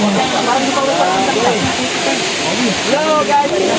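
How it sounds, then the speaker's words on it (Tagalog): Daranac waterfall in Tanay, Rizal, pouring in a steady broadband rush of falling water, continuous and fairly loud, with people chatting over it and the water drowning out much of their talk. "Makikita na natin ang falls ng Daranac."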